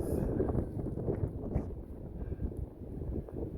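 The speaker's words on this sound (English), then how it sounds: "the wind is a howling" Strong, rumbling wind buffets the microphone steadily, a low roaring gust sound with no voices, at Beauty Spot Gap on the Appalachian Trail.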